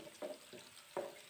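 Garlic for a chicken spring roll filling being stirred as it fries in oil in a pan, heard as three short scraping stirs over a low, faint sizzle.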